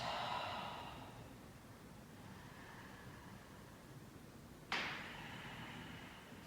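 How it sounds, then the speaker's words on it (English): Long exhales during a yoga practice, two audible breaths: one fading out at the start and another sharp, breathy release midway, close and soft against a quiet room. "And then exhaling forward."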